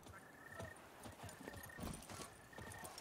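Hooves of Roach, the horse in The Witcher 3, clip-clopping at a trot in a steady rhythm, close and clear against soft ambient game sound.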